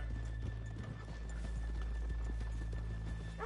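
Horse hooves clip-clop in a steady walking rhythm over a constant low hum in the video game Red Dead Redemption 2, with a brief whinny near the end.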